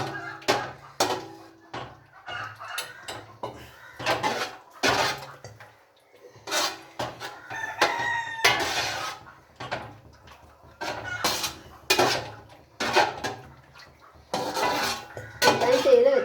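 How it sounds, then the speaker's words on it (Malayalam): A pot of ada being stirred in a home kitchen, with irregular clanks and knocks of utensil on metal and some water poured in, while a person talks between the sounds. "ഇനി നമുക്ക് അതൊന്ന് ഇളക്കാം കുറച്ചും കൂടി പാനി ഒഴിച്ചു കൊടുക്കാം"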